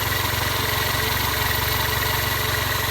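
A 1999 Toyota Corolla with the 1.8 engine idles steadily close by, a low, even rumble with a faint rhythmic pulse and no talk over it; the car has a knocking fault.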